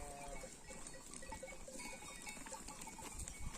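A flock of sheep on an open mountain slope near dawn, heard as a busy, continuous murmur of livestock with scattered faint bleats against steady outdoor background noise.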